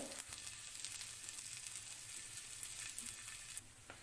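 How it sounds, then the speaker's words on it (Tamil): Onion coin parathas sizzle on a hot dosa griddle in a steady, even frying hiss that runs close and unbroken for a few seconds, with no talking. "இப்போ தோசைக்கல்லில் ஒன்று ஒன்றா இதை போல் வச்சுக்கலாங்க"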